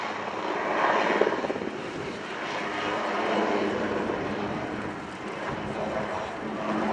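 A Swiss Air Force display helicopter performs a quick stop at an airshow, its rotor and engine producing a moderately distant, steady throbbing roar that rises and falls gently.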